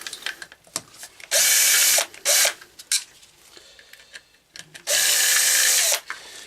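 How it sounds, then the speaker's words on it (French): A power screwdriver backs out clutch screws on a BMW K1200 GT motorcycle. It gives two long, loud whirring runs and a shorter burst, with small clicks and metallic handling sounds between them. "je vais finir le dévissage avec la visseuse"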